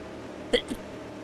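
One quick, sharp sneeze, followed by a fainter second burst, over steady low background noise during a sim racing broadcast.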